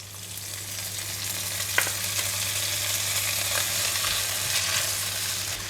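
Yellow onions and ginger stir-fry in a pan, giving an even, close sizzle that holds steady throughout, with a faint low hum underneath and no voices.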